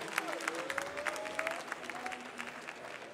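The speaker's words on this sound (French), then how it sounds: "on l'encourage, donc, s'il vous plaît, on l'encourage, on applaudit." An audience applauds a competitor at a barista championship final, a moderate indoor crowd clapping with distinct individual claps audible over a low room murmur.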